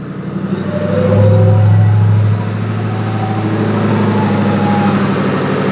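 A 2010 Ford Mustang engine idles close by with a steady, rough low rumble and fast ticking injector clatter, briefly swelling louder before settling back to an even drone.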